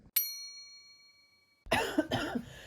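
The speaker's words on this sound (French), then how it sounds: "J'arrive pas à dormir, je fais que tousser." A sharp ringing tone fades out, then two harsh, close coughs follow in quick succession, loud against an otherwise quiet room.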